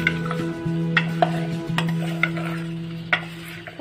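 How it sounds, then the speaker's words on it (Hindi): Raw mango pieces stirred in a cooking pan, a spoon scraping and knocking against the metal in irregular clinks over a steady low hum, with no talking. "और इसको अच्छे से मिक्स कर दूंगी।"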